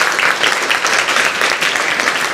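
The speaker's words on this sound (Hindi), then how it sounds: "तालियां तो हम बजा सकते हैं" Students at a National Service Scheme camp at a government girls' inter college in Rishikesh clap together, a loud, even burst of group applause that fills the whole stretch without a break.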